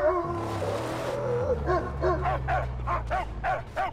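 A dog in the video game Mad Max lets out a string of sharp barks and yips, close and repeated in an uneven rhythm over a low droning background.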